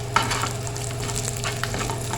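Slit green chilies, whole peppercorns and ginger frying in tempering oil for dal gosht. The sizzle crackles steadily, with a few brief pops over a low hum.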